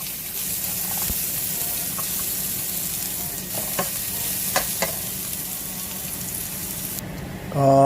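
Garlic sautés in a hot pan with a steady, even sizzle, a few scattered clicks of stirring, and a brief louder clatter at the very end.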